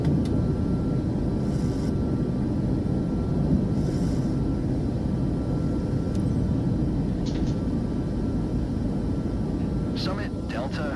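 An airliner's jet engines roar loud and steady during takeoff roll and rotation in Microsoft Flight Simulator 2024, amid strong crosswind, with brief radio-style chatter near the end.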